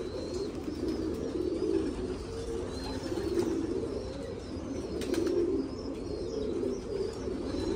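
Several pigeons coo in low, throaty rolling calls close by, overlapping continuously, with faint chirps and a brief flutter in the background, as a male pigeon flies down.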